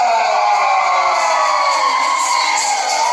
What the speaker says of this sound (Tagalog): Isang malakas na hiyawan!